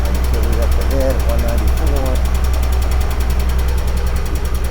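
The engine of a 1961 Ford Econoline idles close by with a steady low throb and an even mechanical knock, while someone talks over the first half before the running engine carries on alone.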